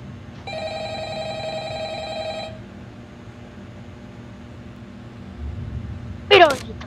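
A phone rings in the Roblox remake of Five Nights at Freddy's, a single electronic ring tone lasting about two seconds over a low background hum, followed later by a brief sharp sweeping sound.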